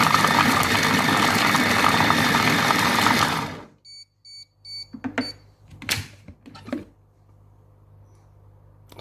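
A Compact Cook Pro food processor runs at speed 5 while making butternut and goat cheese risotto, a loud steady whir for several seconds that stops abruptly, followed by a few light clicks and knocks.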